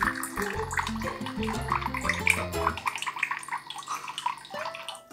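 Chilled soju is poured into a small glass, a bubbling, gurgling stream of liquid running for a few seconds close by, with faint music underneath.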